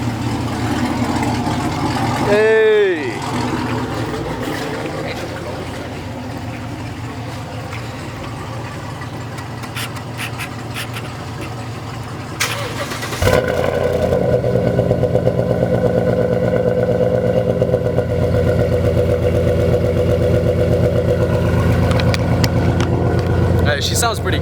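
A Ford Mustang V8 cold-starts with a cranking whine and a loud catch, then settles into a deep, steady, rumbling idle close by, while a voice calls out over it.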